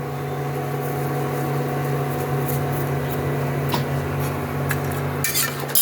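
Utensil stirring vegetables in a metal cooking pot to mix in salt for a milky Bengali vegetable curry, steady scraping and clinking over a constant background hum, no talking.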